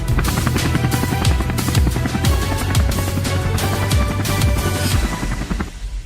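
A helicopter's rotor thumps steadily and loudly throughout, a dense continuous drone with rhythmic chopping, no voices.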